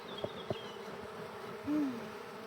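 Faint, steady buzzing of many honeybees around an open hive hums in the background, with a couple of soft knocks and a brief higher drone passing close by.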